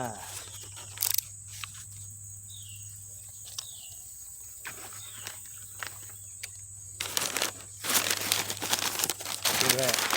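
Thick paper wrapping around an axe head crinkles and rustles during an unboxing, with soft handling noises and a steady hum, growing louder and busier toward the end.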